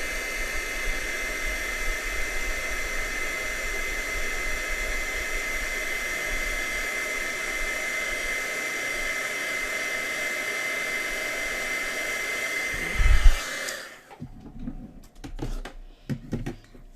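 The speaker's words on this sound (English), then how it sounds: "make sure that your heat tool is hot. Okay, let it warm up" A craft heat tool blows hot air for melting, a steady loud whooshing hiss lasting many seconds close up before it is switched off, followed by quieter handling sounds.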